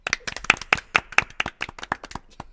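A small group claps together, a brisk scattering of sharp hand claps lasting a couple of seconds, close and fairly loud.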